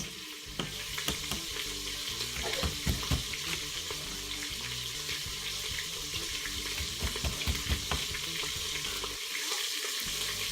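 Smoked sausage cooks in a pot for a smoked sausage and chicken gumbo, giving a steady, close sizzle with scattered sharp clicks and knocks throughout.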